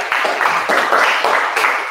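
A classroom group claps for a presenting team, brisk uneven applause from a modest crowd lasting a couple of seconds, close and fairly loud.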